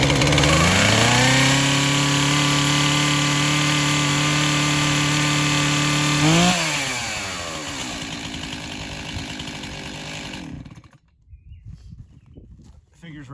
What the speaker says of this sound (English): The chainsaw usually takes 3 or 4 pulls till it fires.